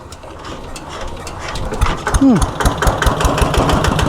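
A 90-horsepower Kubota diesel engine on a used farm vehicle idles steadily at close range, a low rumbling chug with a brief higher whine partway through.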